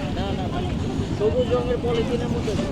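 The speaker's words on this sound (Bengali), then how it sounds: "এখানে অনেক বাতাস" Strong wind buffets the microphone with a steady low rumble at a boat ghat at Bholaganj Sada Pathor, Sylhet, while a voice speaks faintly underneath, with hints of water and boats nearby.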